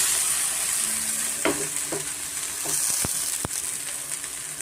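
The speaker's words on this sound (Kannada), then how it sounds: "ಒಂದು ಎರಡರಿಂದ ಮೂರು ನಿಮಿಷ ಮೀಡಿಯಂ ಫ್ಲೇಮಲ್ಲಿ ನಾನು ಫ್ರೈ ಮಾಡ್ಕೊಳ್ತಾ ಇದ್ದೀನಿ" Raw banana and ridge gourd fry on a tawa over a medium flame, with a steady sizzle running throughout and several sharp spatula scrapes and taps against the pan.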